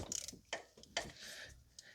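A ratchet wrench loosens a tight 14 mm recessed bolt on a 2005 Toyota Corolla 1.8, giving a few close, quick clicking bursts of pawl ratcheting with short pauses between them.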